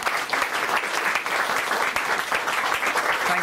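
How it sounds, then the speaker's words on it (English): A studio audience at a live nature-show taping applauds in a dense, continuous burst of clapping that stays even and fairly loud throughout, with no talking. "Round of applause."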